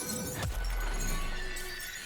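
Glass shatters from Gara's ability in Warframe: a single sharp crash-and-shatter with a low thump, set over a steady ambient game hum.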